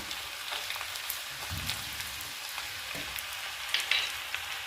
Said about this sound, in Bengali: এরপর একটু হালকা করে সুন্দর করে ভাজতে হবে।